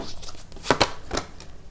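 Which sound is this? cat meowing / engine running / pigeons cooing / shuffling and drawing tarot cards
shuffling and drawing tarot cards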